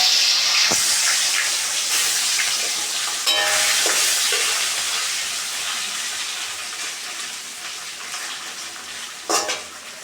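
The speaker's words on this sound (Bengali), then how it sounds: "বন্ধুরা এখন আমি কড়াইতে মাছ দিয়ে দিব।" Tangra fish frying in hot oil in a kadai makes a loud, continuous hissing sizzle that eases slightly over time, with an occasional clatter of utensils.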